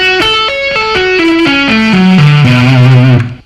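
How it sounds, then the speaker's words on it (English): Slow arpeggio on a distorted electric guitar in a rock style, a minor ninth shape played note by note in a steady descending line, loud and close, with the last notes ringing before a quick fade. "So, at a slow tempo, the arpeggio sounds like this."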